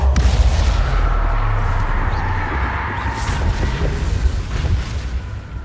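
Deep booming blasts from a Confringo fire spell in the Hogwarts Legacy video game, a heavy rumbling burst at the start that rolls into sustained low roaring noise with scattered thuds.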